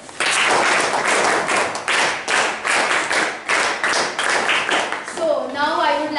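Audience clapping for a class IX student storyteller at a school storytelling event, a steady burst of applause lasting several seconds before fading, with a short tonal sound at the end.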